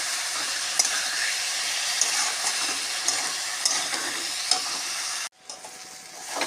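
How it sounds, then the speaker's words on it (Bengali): Soybean fritter curry base with turmeric and salt frying loudly in a pan, a dense continuous sizzle broken by regular scraping stirs, then abruptly cut off and resuming faintly. "পরিমাণ মতন হলুদ আর পরিমাণ মতন নুন দিয়ে এটা ভালো করে কষিয়ে নিতে হবে।"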